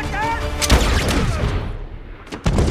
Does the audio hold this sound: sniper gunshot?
yes